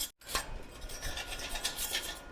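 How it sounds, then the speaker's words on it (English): Slag being cleaned off a fresh weld with a brush or tool, a close, harsh rasping scrub in quick repeated strokes after a brief pause at the start. "almost after every weld I'm doing, I'm cleaning it up, because when this slag is on here, you can't weld on top of slag."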